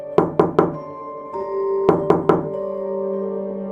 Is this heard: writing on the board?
no